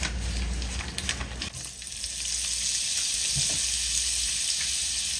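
Butter sizzles in a hot cast iron skillet while a chicken casserole is prepared, a steady close frying crackle with a few sharper pops early on and no voices.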